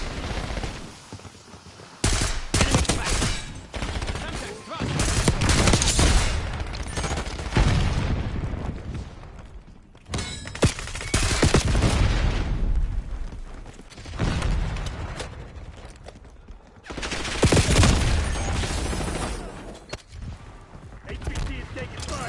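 Video game gunfire: repeated bursts of automatic fire and booming shots in several loud waves, with pauses between them and game voices intermittently over the shooting.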